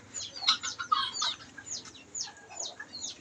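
Bantam chickens cluck and chirp nearby in short, busy bursts, with some thin, high calls layered over a soft background hum.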